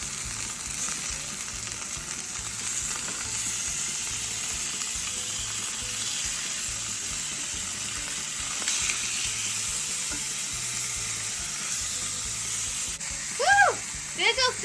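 Food sizzles and crackles steadily in a hot pan, a dense close-up frying hiss with a few faint chirpy squeaks near the end.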